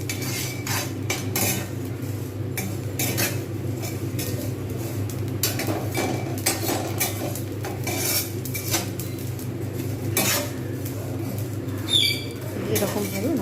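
Rice dry-roasted in a pan for sweet rice laddus, with steady metal scraping and clinking of a spatula against the pan running throughout, close and fairly loud, over a constant low hum.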